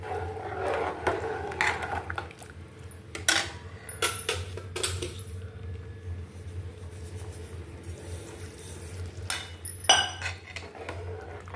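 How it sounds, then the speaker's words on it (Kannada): Avarekalu uppittu, made with broken rice grits, being stirred in a cooking pot, giving scattered metallic clinks and scrapes of a spoon against the pot over a steady low hum. "ತಿರುಗಿಸ್ತಾ ಇದ್ದೀನಿ."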